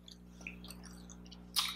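Quiet, close chewing of a Pillsbury Cinnamon Toast Crunch cookie, soft and moist mastication against a steady low hum, ending in a brief crisp burst.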